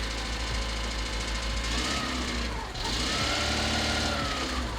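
Engine of a cheap Honda Civic hatchback in park with a failing transmission, running loud and rough with a gravelly, knocking rumble that rises briefly with a little throttle and dips for a moment midway.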